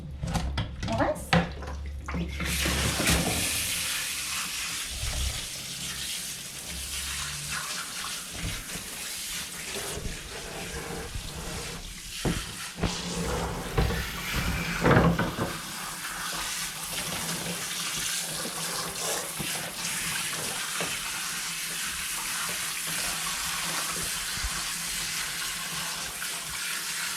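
Running water rinses a Persian cat's coat during a grooming session, a steady wash of spray and splashing that lasts throughout, with a voice talking over it at intervals.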